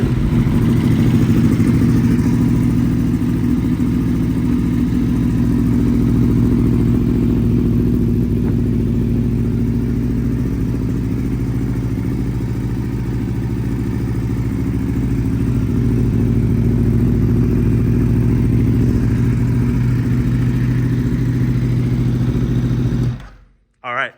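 A V4 motorcycle engine idles after a cold start, a loud, steady, low throbbing rumble that holds evenly close by for over twenty seconds before cutting off abruptly at the end.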